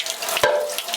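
Tap water runs hard into a black and white film developing tank during a rinse, a close, steady rushing splash with a brief gurgling surge partway through.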